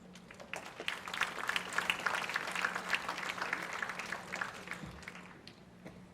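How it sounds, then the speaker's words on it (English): Audience applause at an award ceremony, a steady wash of many hands clapping at moderate level for several seconds before tapering slightly near the end. "Thank you for applauding"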